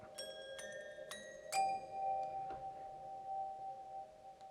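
A few bright, bell-like toy piano notes from a Kontakt sample library ring out one after another, then a thin, wavering tone hums on, tinny like a broken bicycle bell.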